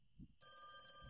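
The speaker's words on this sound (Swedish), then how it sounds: "Ja, det ringer." A telephone rings in the VR game A Chair in a Room: Greenwater, starting abruptly with a bright, steady electronic bell tone that carries on alone after a brief low murmur.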